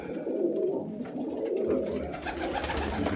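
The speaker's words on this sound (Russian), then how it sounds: "Вот, смотрите, это молодой голубенок." A young pigeon among a loft of birds gives soft, low cooing over a steady murmur of other pigeons, close and continuous without any talking.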